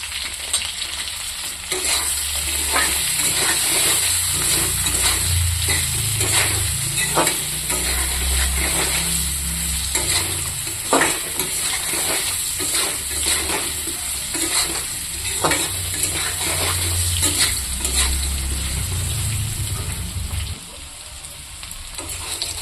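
Vegetables fry and sizzle in hot oil in a pan, with repeated scrapes and clinks of stirring against the pan throughout, close and steady, no talk.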